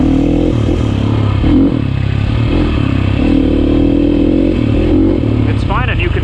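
Sherco 450 SEF dirt bike engine running steadily while riding, a loud continuous drone with shifting pitch and brief rising revs near the end, with someone talking over it.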